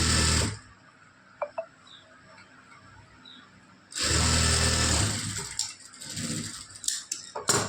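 Domestic sewing machine stitching the folded lining cloth of a blouse, in two bursts of rapid whirring separated by a quiet pause with small clicks and handling noises.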